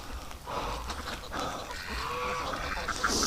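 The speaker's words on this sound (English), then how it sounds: "Look at the size of that male Muscovy." Muscovy ducks and geese call outdoors beside a lake on a windy day, with hoarse honks and bursts of squawking scattered across the clip over steady wind rumble.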